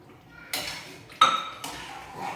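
Wheat rava sweet pongal being stirred in a heavy pot, with metallic scraping and clinking of the spoon in bursts, one sharp clink standing out among the others.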